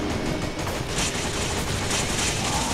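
Dense, continuous gunfire from the Resident Evil 5 video game, loud and sustained with overlapping shots throughout, heard alone without talk.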